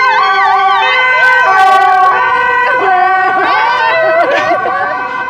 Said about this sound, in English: We wait for the sirens.